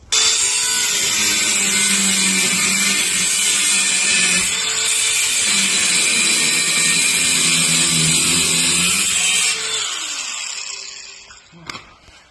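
Power tool cutting steel on a seized rear axle part of an Iveco 75E15 truck during hub seal removal, a loud continuous high-pitched grinding whine for about ten seconds before winding down, with a couple of clanks at the end.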